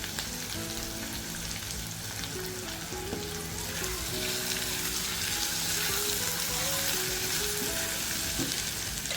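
Sliced onions with a pinch of turmeric sautéing in a pan for ivy gourd rice, giving a steady close sizzle and fry that runs throughout, with occasional faint stirring clinks and light background tonal hum.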